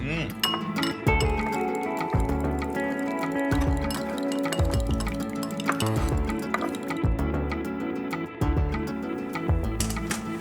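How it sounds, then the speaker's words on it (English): A whisk clinks quickly and rhythmically against a bowl, mixing salad dressing ingredients for a crispy rice salad, with people talking over it. "So we'll whisk these ingredients together"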